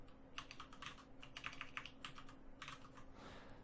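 Keystrokes on a computer keyboard while a title is entered in Adobe After Effects, a steady run of light clicking taps in short bursts with brief pauses, close and clear over a faint hum, no voices.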